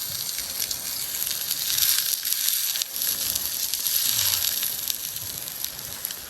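A steak sears on a hot plate, a steady bright crackling sizzle with fine popping that holds at an even, fairly close level throughout, with no one talking.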